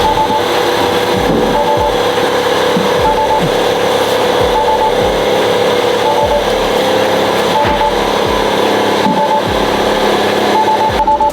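A Tesla Model S rolls slowly in reverse after sitting for a long time, its brake pads giving off a loud, continuous grinding scrape with a steady rhythmic pulse as the wheels turn.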